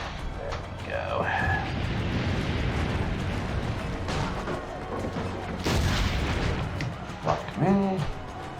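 Heavy cannon fire in Assassin's Creed: Brotherhood, deep rumbling booms and blasts rolling continuously with loud bursts near the end, set amid game music and effects.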